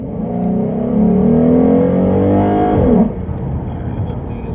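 A 2014 Ford Mustang V6 with a Spectre air intake kit revs up, the engine tone climbing loudly and steadily for a few seconds before dropping back to a lower idle-like drone.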